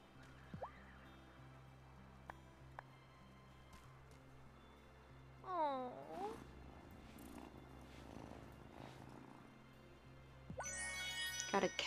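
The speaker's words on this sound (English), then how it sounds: "Let's check with Kitty Cat" A cat in the video game Wylde Flowers purrs steadily, with a couple of rising meows in the middle and a bright chiming jingle near the end.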